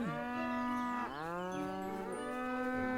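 A cow moos long and loud in a farming video game while being milked with a jug, one drawn-out lowing call dipping briefly in the middle before carrying on alone.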